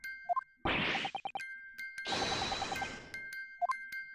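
Musical device in The Great Ace Attorney video game sounding a single tone, its ringing dings heard between two longer bursts of clattering game sound effects, with small chimes at the start and the end.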